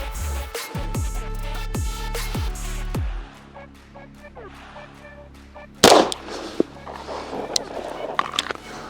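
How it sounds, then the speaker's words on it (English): A single sharp pistol shot from a Beretta 92Xi Squalo at 7 yards, fired at a target's head, cracks out loudly after a stretch of rhythmic background music, followed by a few faint clatters and knocks. "I'm going to take 1 headshot real quick just to confirm."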